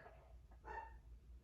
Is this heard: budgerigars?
no